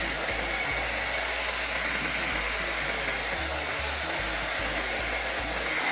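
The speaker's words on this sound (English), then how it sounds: "if you want to get labels off, just use the hair dryer" A hair dryer blasts steadily up close, warming a label on a sneaker shoe box so it peels off, a constant loud whooshing roar with a low motor hum underneath.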